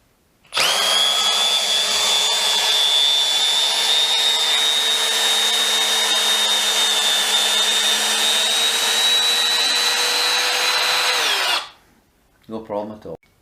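A Milwaukee M12 FPD Gen2 cordless combi drill runs at a steady high-pitched whine for about eleven seconds, loud and close, then cuts off abruptly, followed by a brief clatter.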